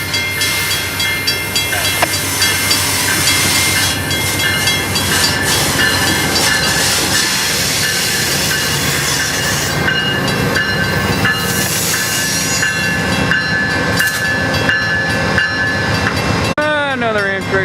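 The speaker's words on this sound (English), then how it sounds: "Another Amtrak train killing another bird." An Amtrak train roars past, loud and continuous with heavy rumble, hiss and rattling wheel noise throughout, and a high steady tone running above the din.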